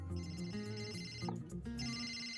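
A telephone rings over background music during a comedic cricket match scene, its repeated tonal bursts steady and fairly loud across the short span with no talk.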